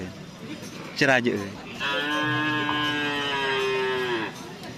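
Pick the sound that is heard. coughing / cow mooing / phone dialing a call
cow mooing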